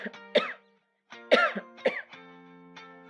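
A person with a worsening cough coughs harshly several times in quick bursts, close and loud, with brief pauses between fits and some rough voiced throat sounds.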